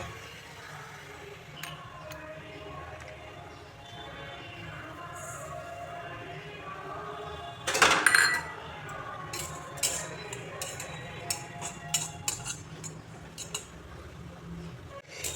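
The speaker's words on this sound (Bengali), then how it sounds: "এখন এই তিলগুলোকে আমি ভেজে নেব।" Sesame seeds toasting in a pan for a cucumber and sesame dish, with steady faint crackle under scattered clinks and scrapes of a utensil stirring, plus a louder clatter burst partway through.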